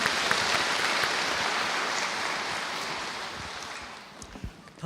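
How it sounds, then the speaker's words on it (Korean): A church congregation applauds in welcome during a Sunday service at Bucheon First Church, a dense, steady wash of clapping from many hands that holds for several seconds and then thins slightly toward the end. "들어가실 때 환영의 박수 해주시겠습니다"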